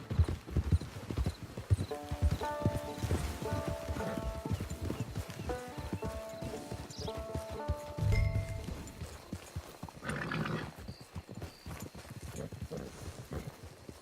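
Horse hooves in the Red Dead Online video game, clip-clopping steadily at a walking pace with a whinny, set against background music and game ambience.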